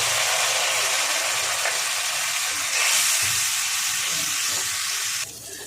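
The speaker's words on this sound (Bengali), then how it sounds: "সামান্য একটু জল দেব, দিয়ে মশলাটা ভালো করে কষাবো" Spice paste with slit green chillies and a splash of water sautéing in a pan, giving a loud, steady sizzle and hiss that runs throughout and drops a little at the very end.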